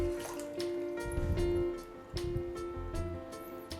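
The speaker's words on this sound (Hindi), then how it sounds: "और अब इसके अंदर मैं डालूंगी पानी।" Water is poured into a bowl of chana dal set to soak with a spoon of baking soda, a close, steady splashing and trickling stream with a few drip-like accents, no talking.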